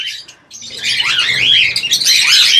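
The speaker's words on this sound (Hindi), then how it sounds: "मुझे आपके कॉकटेल बहुत अच्छे लग रहे हैं, हेल्दी हैं, एक्टिव हैं" Pet cockatiels chirp and squawk up close in a loud flurry of overlapping high calls that starts after a brief pause and continues without letup.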